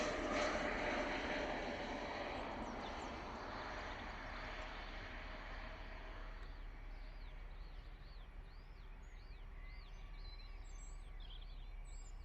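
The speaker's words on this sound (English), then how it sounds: "Lovely landing there from the gorgeous Pilatus PC-24." A Pilatus PC-24 business jet landing, its engine roar loudest at first and then easing into a steady distant hum, with birds chirping faintly later on and no talking.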